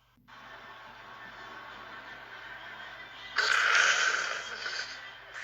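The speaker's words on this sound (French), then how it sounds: "je renifle ma lessive" Someone takes a long, deep sniff of laundry detergent up close, a quiet airy draw of breath that swells into a loud, strong inhale before tapering off.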